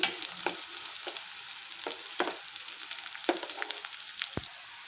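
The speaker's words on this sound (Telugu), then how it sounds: "ఆనియన్ ముక్కలు కూడా వేసేస్తున్నాం అండి వీటిని కలిపేసుకుందాం ఒకసారి ఇవి కూడా ఫ్రై అవ్వాలి" Onion pieces frying with cumin, mustard seeds and green chilli for wheat rava upma, a steady sizzle punctuated by several sharp spatula scrapes and taps against the pan, no one talking.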